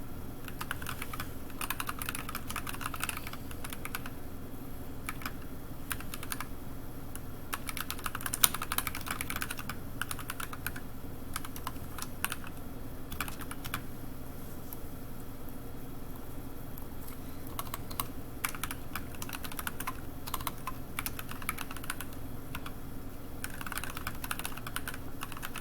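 Keys clack steadily on a computer keyboard, a soft, continuous patter of individual keystrokes with brief pauses, close and moderately quiet over a faint room hum.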